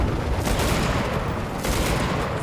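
Rapid, sustained gunfire from a tank turret in a video game battle at a quarry, a loud continuous barrage of shots filling the whole moment with no talk.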